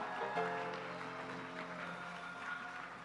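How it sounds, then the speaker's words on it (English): Congregation at a Purim service applauding together, a steady wash of clapping that holds at a fairly even level for a few seconds with no voices standing out. "Give yourselves a big round of applause."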